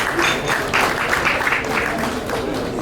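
An audience claps steadily at a life celebration event, with dense, sustained applause from a crowd filling the space, fairly loud and continuous throughout.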